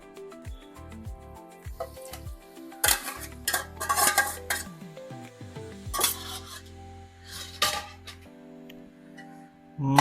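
A metal spoon scrapes and clinks against a pot as pre-cooked pork is mixed in a home-style Kerala pork dish, with irregular bursts of knocking and rattling near and clear, and no voices.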